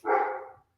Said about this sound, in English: I'm so sorry that my dog is barking.